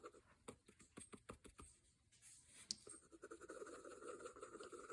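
A Lady Sheaffer Skripsert fountain pen with a gold Triumph nib scratching across paper, producing a run of soft, close scraping strokes that start as distinct marks and then blur into a steadier rasp.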